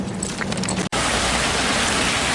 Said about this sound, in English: It's pretty good to actually be getting some rain because we need it.